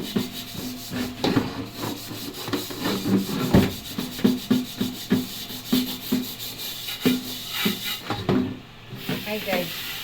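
Close, steady scrubbing of burnt-on charcoal from a cooking pot, rough rubbing strokes repeating in an uneven rhythm with occasional knocks, clearly audible throughout.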